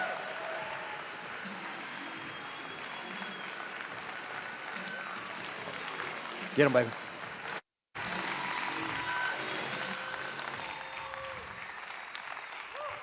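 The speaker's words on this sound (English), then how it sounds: "Give him a round of applause." A conference event crowd applauds steadily throughout as a speaker is called to the stage, with a voice calling out briefly midway and a short silent gap near the end.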